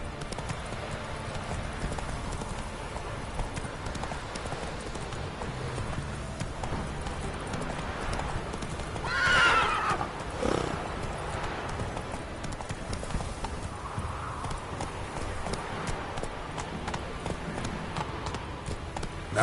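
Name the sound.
horse Roach galloping and neighing in the video game Witcher 3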